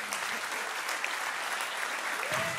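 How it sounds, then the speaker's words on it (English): A church congregation applauds warmly and continuously, a full, even wash of clapping with a faint voice surfacing near the end. "I think we should give her a round of applause"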